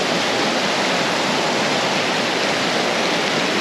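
Steady, loud roar of a waterfall cascade in the Rocky Mountains of Canada, a dense unbroken rush of falling water heard close up with no voices.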